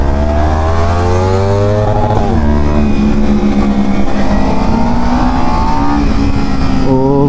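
A stock motorcycle accelerates hard on a ride toward Marine Drive, its loud engine note rising steadily, dropping briefly as it shifts gear, then climbing again with constant wind and road rumble throughout.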